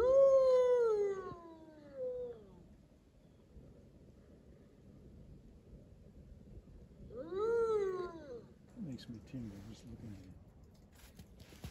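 An old captive wolf at an environmental center howls twice, each a long, rising and falling wail with clear harmonics, separated by several seconds of quiet, with faint background noise between.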